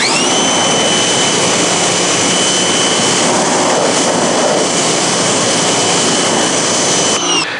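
A Westinghouse ePX3000 electric pressure washer blasts car wheels with a loud, continuous jet hiss over a steady motor whine. It holds close and constant for about seven seconds, then cuts off.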